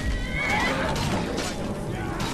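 In the video game Skyrim, a horse gives a loud whinnying neigh with a few clip-clop hoof sounds, set against battle noise.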